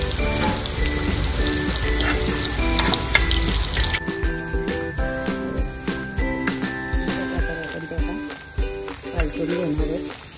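Stuffed shevla cooking in a pan, a continuous sizzle and spattering with occasional clinks, under a steady musical background that changes partway through.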